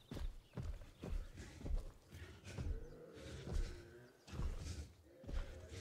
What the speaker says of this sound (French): Il fait un bruit robotique, je trouve, quand il marche.